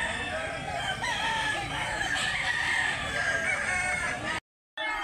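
Tiger Hen gamefowl rooster crowing loudly and close, one drawn-out crow over about four seconds amid outdoor market noise, then a brief cutoff.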